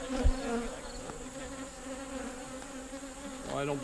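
Honeybees buzz steadily around an open beehive during a partial inspection, a continuous close drone with individual insects passing near, while the surroundings stay otherwise quiet.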